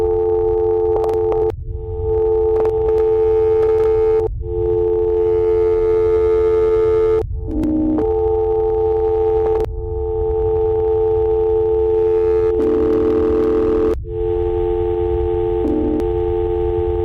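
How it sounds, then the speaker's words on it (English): Annoying phone ringtone playing on loop: loud electronic tones in repeating segments of a few seconds each, separated by short breaks and pitch shifts, steady with no voices. "ringtone. A very annoying ringtone."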